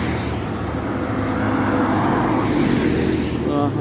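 Cars and traffic pass steadily along a busy road in Jurong West, Singapore, a continuous loud roadside rumble that swells slightly as vehicles go by near the listener, with a voice heard faintly beneath.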